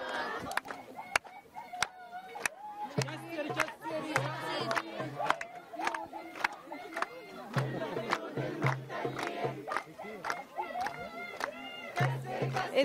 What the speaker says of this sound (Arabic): نستمع أيضا إلى الهتافات والأهازيج التي ترفع